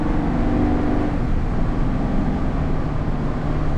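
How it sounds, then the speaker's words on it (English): A 2020 Jayco Entegra Emblem Class A bunk-bed motorhome on 22.5-inch aluminum wheels cruises along, producing a steady, loud low engine and road rumble that stays even throughout with no voices. "So this is a very smooth driving motorhome"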